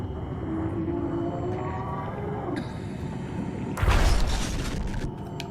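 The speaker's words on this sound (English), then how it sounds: "that huge thunk sound has to be the sound of it teleporting around" A huge monster teleporting in the horror game SOMA gives a sudden loud, deep thunk and a wide burst of rumbling noise that holds briefly over a droning, ominous ambient bed.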